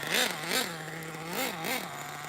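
An HPI Savage X 4.6 nitro RC truck engine idles close by, a steady buzzing drone broken by four quick rising-and-falling blips as the throttle is tapped, two early and two late in the stretch.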